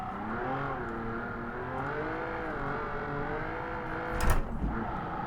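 A video game car engine, a V8 in a Morgan 3 Wheeler, drones steadily, rising and falling in pitch as if revving through gears, with a brief sharper burst near the end.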